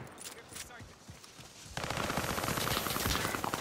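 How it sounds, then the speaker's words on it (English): A light machine gun in Call of Duty: Modern Warfare opens up in a sustained rapid burst after a short lull, loud and continuous, with a voice talking over the start. "Fucking shitty LMG with the fucking recoil."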